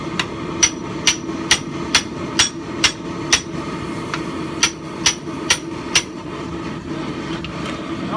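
Hammer blows on orange-hot steel forge-welding a Viking axe made from scrap, a dozen ringing strikes in an uneven rhythm with a brief pause midway, close and loud over low forge roar.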